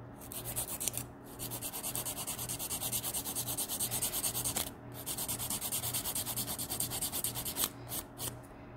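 Steady, continuous rasping of a hand nail file shaping an acrylic dip-powder nail during a manicure, close and even with brief pauses, no talking.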